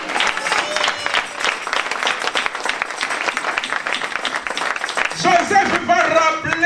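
A church congregation applauding, a steady wash of many hands clapping with voices mixed in, held at an even level before a voice rises over it near the end.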